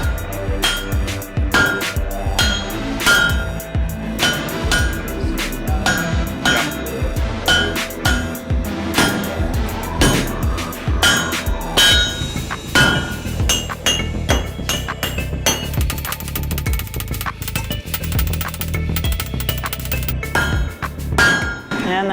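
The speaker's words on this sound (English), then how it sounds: "now that we got the first taper down, do some striking." A hammer rings on hot metal on an anvil in repeated sharp, clanging strikes with a steady working rhythm, loud and close.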